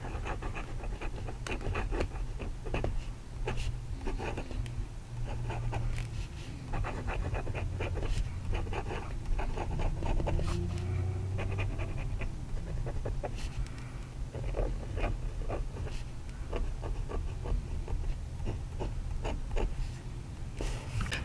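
A cheap pen scratches across paper in quick, irregular strokes, close and fairly quiet, with faint background hum and no talking.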